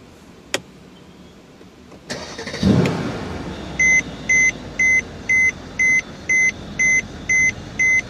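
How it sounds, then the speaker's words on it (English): A 2014 Mercedes-Benz E63 AMG S 4Matic with a twin-turbo V8: a click, then the engine cranks and fires into a loud burst, settling to a subdued idle as a series of evenly spaced electronic chimes beep repeatedly. "Beautiful sound from that twin turbo V8."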